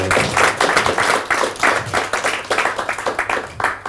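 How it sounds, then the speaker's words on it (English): Scattered audience clapping at a Kubernetes tech meetup, a modest group of hands beating in uneven bursts that thin toward the end, fairly close and with faint murmurs. "Oh, somebody's going to applaud."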